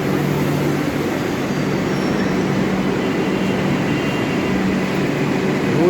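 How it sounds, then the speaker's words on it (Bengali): Kolkata Metro train running toward Dum Dum, a steady loud rumble and hiss of wheels and motors sustained throughout with no break, heard close from the station platform. "দমদমের দিকে মেট্রো যাচ্ছে"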